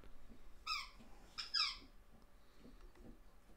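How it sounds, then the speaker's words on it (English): A dog squeaks a squeaky ball toy, two sharp high squeaks in quick succession, fairly near, over quiet room background. "Apologies for the squeaking in the background. That's my dog playing with his ball,"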